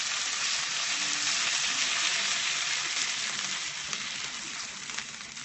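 Pork stir fry with oil sizzling in a pan, a steady, loud, continuous hiss heard up close with no talk.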